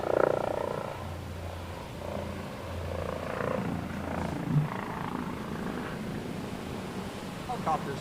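A helicopter passes overhead at a distance, its low rotor thump steady and fairly faint beneath outdoor ambience, with a brief soft sound near the end.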